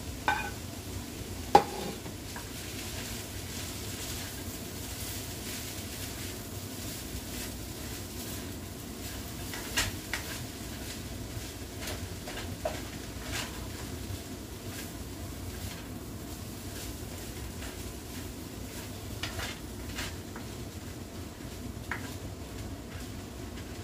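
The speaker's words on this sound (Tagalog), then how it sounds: "Lagay na natin yung ating itlog." Egg frying in a pan with sinangag (garlic fried rice), a soft steady sizzle broken by occasional scrapes and clicks of a utensil stirring, close and fairly quiet.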